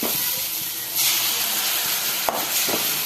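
Tamarind water goes into sautéed tomato and onion for girmit, setting off a loud, close, steamy hiss that swells partway through, with one sharp click toward the end.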